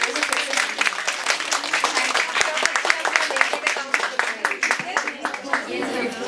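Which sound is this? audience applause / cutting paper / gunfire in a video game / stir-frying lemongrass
audience applause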